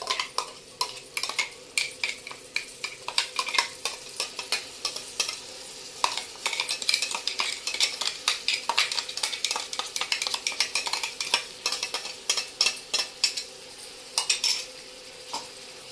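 Ground masala paste stirred and sautéed in oil, busy irregular scraping and clinking of a spoon against the pan over a light sizzle throughout, close and alone.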